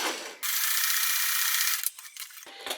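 A sewing machine stitches fabric in a fast, even mechanical run for over a second, close up, then stops with a few clicks and rustles of handling.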